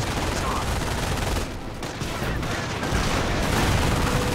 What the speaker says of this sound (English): Thankfully that MG42 is doing an excellent job of keeping them pinned down